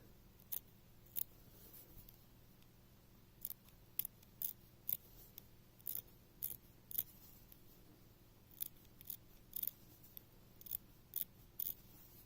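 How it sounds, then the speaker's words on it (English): Scissors snip fabric when trimming ribbon hole trim, in quick, crisp cuts at an uneven pace, quiet and close against a faint steady hum. "If you hold your scissors at an angle, you won't catch your stitches."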